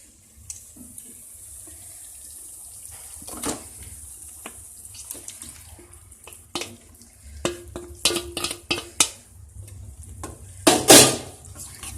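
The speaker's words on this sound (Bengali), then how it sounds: "এবার এই কষানো মশলার মধ্যে আমি ম্যারিনেট করা মাংসটা দিয়ে দেব।" Marinated chicken tipped into fried spice masala in a pan, with scattered clinks and scrapes of utensils against the pan, a soft wet sizzle, and a louder clattering burst near the end.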